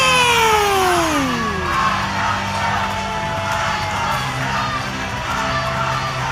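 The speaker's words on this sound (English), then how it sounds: "already the Hot Point Davis Arena crowd screaming, Icon sucks, Icon sucks" An arena crowd at Hot Point Davis Arena at a wrestling show roars and screams a chant at a wrestler, sustained loud massed voices with a descending whistle or shout at the start.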